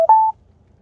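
A brief telephone line tone during a live call-in broadcast: a short low beep followed by a steady higher electronic tone lasting about a quarter second, then near silence.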